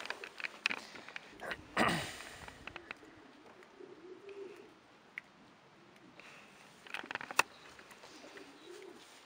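One-year-old racing pigeon cocks cooing in a loft, soft low coos scattered across the stretch with occasional sharp rustles and clicks, quiet and close with no talk.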